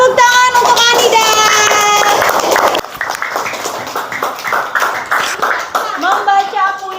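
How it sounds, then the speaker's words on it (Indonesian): Classroom audience clapping for a student named Anida after a poetry reading, a loud steady patter of hands under overlapping voices and a sung or called tone early on, thinning toward the end. "tepuk tangan untuk Anida"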